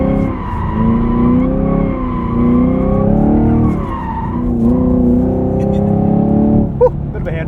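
A Camaro SS 1LE drifts with its engine revving hard and close, pitch swooping up and down in long sweeps, loud and continuous, with a brief squeal near the end.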